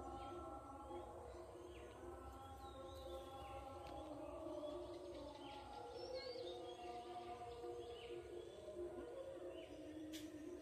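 Faint birds chirp intermittently in the distance over a steady outdoor background hum in a small vegetable garden.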